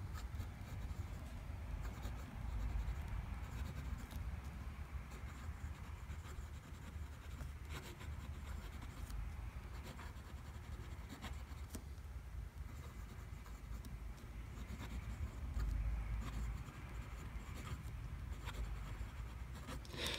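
A wet Aurora Talentum 'Black Ops' fountain pen nib scratches across paper in a continuous, faint, close scratchy writing sound with soft strokes and pauses over a low background rumble.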